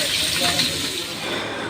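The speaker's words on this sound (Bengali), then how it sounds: "বড় কড়াইতে ভাজা হচ্ছে দেশীয় ছোট মাছগুলো। মাছ ভাজার চটচট শব্দ আর চমৎকার ঘ্রাণ পাওয়া যাচ্ছে।" Small native fish fry in a large wok at a fish restaurant, giving a steady, close hiss and sizzle with no break.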